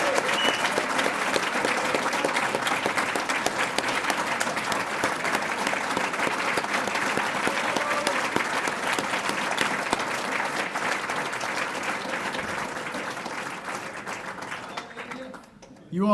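Loud, sustained applause from a large audience honoring inductees and honorees at a university athletics hall of fame ceremony, steady for about fifteen seconds, then tapering off, with some crowd voices mixed in.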